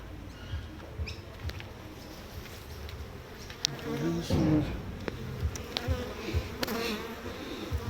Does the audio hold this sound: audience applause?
no